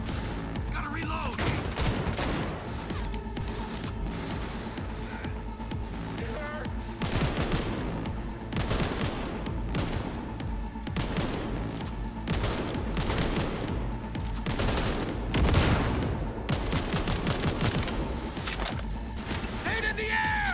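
Rapid bursts of automatic gunfire crackle through a Cyberpunk 2077 firefight, dense and continuous with brief gaps, while voices shout over the shooting.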